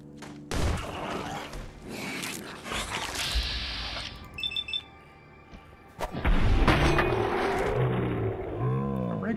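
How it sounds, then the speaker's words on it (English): Booming, roaring blasts with crackling debris and ringing tones, loud and chaotic, surging again after a short lull, from an explosion in Fallout 4 with the Sim Settlements 2 mod. "Did I just hear a supernova explosion?"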